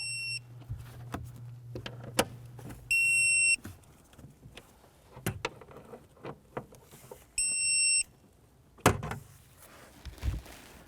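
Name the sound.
tightening strut assembly bolts on Chevrolet Impala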